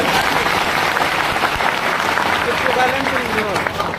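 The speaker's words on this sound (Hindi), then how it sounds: "ताली बजाइए एक बार।" Students in a large Patna classroom clap together on request, a loud, continuous roar of many hands clapping, with shouts and voices mixed in.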